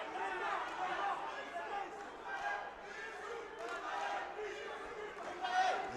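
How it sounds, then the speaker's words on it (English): Boxing arena crowd during a WBC USNBC title bout, a dense, steady roar of many voices rising and falling in loose chanting waves, with commentary talk running over it throughout. "You hear the crowd chanting for Kinda."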